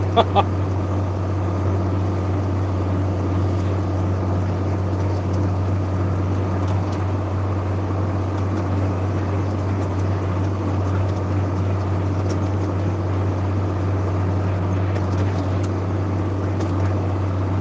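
An old Detroit Diesel engine runs steadily at idle for the whole stretch, a deep, constant low drone close by with no speech over it.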